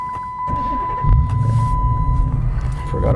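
A 2013 Dodge Challenger R/T engine gets a brief half crank at start, then settles into a close, low rumble, with a faint steady tone running underneath.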